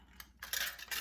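Aluminium drink can being cut into lines, a couple of faint, close metallic snips in quick succession with no voices.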